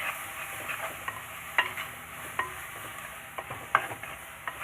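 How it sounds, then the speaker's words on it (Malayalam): Crushed small shallots sizzle and crackle as they are sautéed in a pan for a pearl-spot fish curry in coconut milk, with a steady frying hiss broken by spoon scrapes and stirs. "ഒരു 10-20 ചെറിയ ഉള്ളി ഉണ്ട്, അതും ചതച്ചത് ഇതിലേക്ക് ഇട്ട് കൊടുക്കാം. നമുക്കിത് നന്നായിട്ട് വഴറ്റിയെടുക്കാം."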